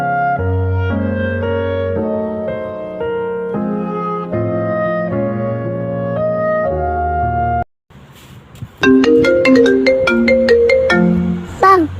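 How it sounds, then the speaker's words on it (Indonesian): A phone ringtone plays a looping melodic tune loudly and alone, breaks off briefly, then switches to a second, brighter ringing pattern before cutting out. "ada telepon bang."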